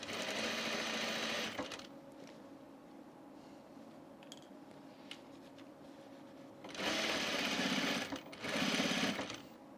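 A sewing machine top-stitches a men's button-up shirt in three close, steady runs. The first is long and the last two are shorter, with quiet fabric handling and small clicks between them.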